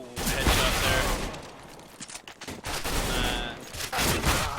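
Rapid gunfire during a Counter-Strike match on the Cache map, dense bursts of shots close and loud through most of the stretch, with brief lulls between volleys.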